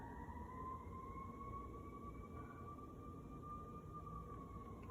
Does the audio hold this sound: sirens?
yes